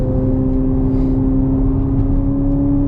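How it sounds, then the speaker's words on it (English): A 2026 Chevrolet Corvette Z06 3LZ with its high-revving V8 cruising in touring mode, a low steady engine drone and exhaust hum with a constant tonal whine, heard from inside the cabin. "That exhaust is pretty gnarly."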